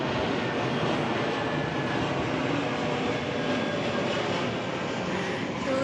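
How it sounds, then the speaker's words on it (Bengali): A train rolls past in a continuous loud, broad rumble that stays steady throughout with no distinct clacks, heard outdoors near a vegetable market in the morning. "এই দেখো ট্রেন যাচ্ছে"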